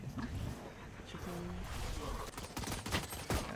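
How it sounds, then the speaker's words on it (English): Rapid bursts of gunfire in a first-person shooter video game, with overlapping shots, sharp cracks and clatter running throughout at a fairly low level, and a few louder impacts near the end. "So sadly, too many people shooting."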